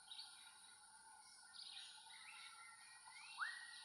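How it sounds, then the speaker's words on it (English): Thicket tinamou and melodious blackbird call in Guatemalan forest, heard as a few faint, distant whistles and chirps over a constant insect hum, with one brief, sharper upslurred note near the end. "Thicket tinamou, melodious blackbird,"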